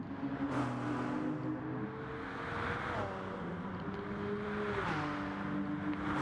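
Several Porsche race car engines in a sim racing game drone and rise through the gears together, a steady dense whine with pitch climbs and shifts, loud and continuous throughout.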